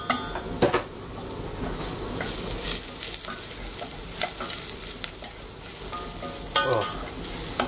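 Garlic frying in a pot for tomato soup, a continuous crackling sizzle with occasional sharp clinks and scrapes of stirring, close and steady with no talk.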